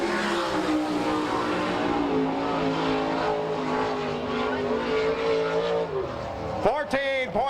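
A sprint car laps a dirt track during qualifying at an All Stars race in Salina, Kansas, its engine a loud sustained roar that rises and falls through the turns and ends in a sharp wavering burst as the car passes.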